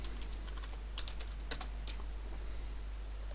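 Sparse keystrokes on a computer keyboard while a search is typed in Windows XP, a few soft clicks clustered in the middle over a steady low hum, with no voices.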